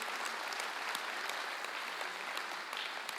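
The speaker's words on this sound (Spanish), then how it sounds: "Denle un aplauso al Señor," A church congregation applauding, continuous dense clapping from a large crowd filling the space at moderate volume without a break.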